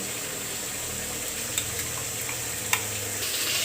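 Ginger, cumin, garlic and chilli paste drops into hot oil in a frying pan for jackfruit-and-prawn curry, giving a loud, steady, continuous sizzle with a couple of faint clinks.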